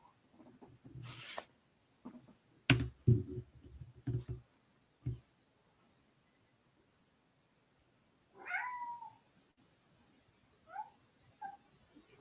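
A house cat gives a couple of short meows in a quiet room, with soft rustling and a few thumps of handling beforehand and long stretches of near silence between.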